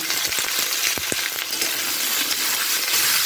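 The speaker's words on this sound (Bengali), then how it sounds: "এবার আমি বেগুনটাকে সিমটাকে এর মধ্যে দিয়ে দিলাম করে এটাকে নাড়াচাড়া করে নেব কিছুক্ষণ ধরে" Eggplant and flat beans fry in a hot pan with salt and turmeric, a loud continuous sizzle broken by a few sharp scraping knocks of stirring early on, heard close up without talk.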